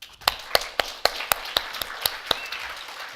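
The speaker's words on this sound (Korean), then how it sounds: "축복의 박수 한번." In a church service, a congregation offers clapping as a blessing for the children: about ten sharp, evenly spaced claps in a steady beat, crisp and fairly close, with no voices.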